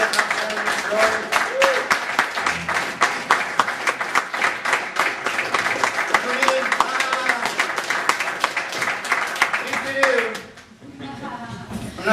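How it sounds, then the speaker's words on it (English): An audience at a Toronto talk applauds Barb for getting up to speak, brisk individual claps close by that fade near the end, with a few voices and crowd murmur underneath. "A round of applause for Barb getting up there and started."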